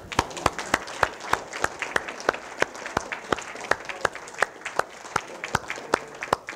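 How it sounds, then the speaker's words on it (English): A small club gathering marking its 70th anniversary breaks into applause, though the claps come in a fairly regular, distinct rhythm as if from a few nearby hands, crisp and evenly spaced over several seconds. "I just want all of us to give ourselves a huge round of applause for 70 years"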